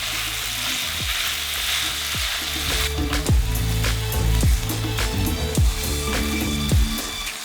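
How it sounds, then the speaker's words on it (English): Ground turkey sizzles and crackles in a hot pan with garlic, a steady close frying hiss broken by repeated knocks and scrapes of a stirring utensil against the pan. "now I'm gonna drop my ground turkey in there so that it can cook with the garlic"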